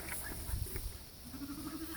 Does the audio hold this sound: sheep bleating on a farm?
yes